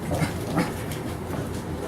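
Several 4.5-week-old Labrador puppies whimper and whine softly up close, a steady busy litter sound with small pants and squeaks running throughout, no talking.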